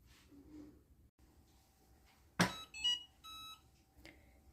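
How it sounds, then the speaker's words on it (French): A Cookeo 10-in-1 multicooker signals the end of its vanilla yogurt program with a sharp click followed by a short series of bright electronic beeps, then one more softer beep, over a quiet room. "il fait un petit bip, mais qui est silencieux quand les yaourts sont terminés"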